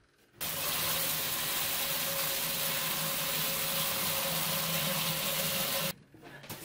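Twelve gallons of hot water pour steadily into a mash tun for brewing a Mexican Pilsner, a loud, continuous rushing gush close by that starts abruptly and cuts off near the end.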